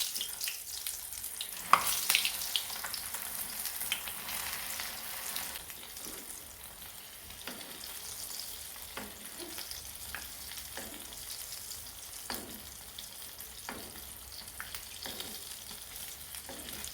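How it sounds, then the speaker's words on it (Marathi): Semolina-coated tilapia fish frying in a pan over low heat, a steady broadband sizzle with periodic sharp crackles and spatters, close and fairly loud, no voices. "आता आपण याच्यामध्ये मासे फ्राय करून घेणार आहोत"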